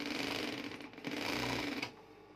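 A Singer sewing machine runs steadily while stitching a scalloped wave-edge finish on a bedsheet, its close, continuous whirring motor and rapid needle clatter holding even before slowing and easing off near the end.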